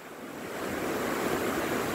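Rushing water current outdoors in the rainy season, a broad steady roar that swells slightly louder, with wind-like noise mixed in and no voices.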